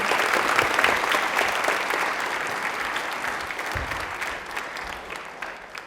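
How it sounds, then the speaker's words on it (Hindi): A studio audience on a Rajasthan TV quiz show claps for a young contestant, a dense, sustained round of applause that fades slightly toward the end. "तालियां अक्षिता के लिए जोरदार हो जाएं प्लीज"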